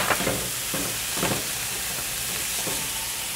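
Chopped tomato goes into a pan where garlic is already frying, giving a steady close sizzle and hiss with a few soft stirring knocks, for a chard roll dish stuffed with chicken.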